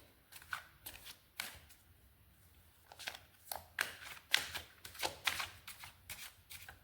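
Oracle cards being shuffled by hand, close up, in repeated bursts of riffling and flicking that come in clusters and grow busier toward the end, with no talking.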